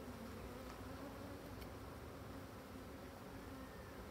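An agitated colony of black bees in an opened hive, a steady, soft, continuous buzzing hum with no voices.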